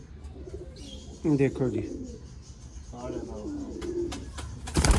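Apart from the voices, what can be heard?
Teddy pigeons cooing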